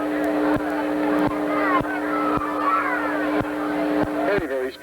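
Big block modified race cars roar at the green flag, a dense, loud engine drone with rising and falling revs of several cars passing, regular sharp clicks throughout and a brief swell near the end.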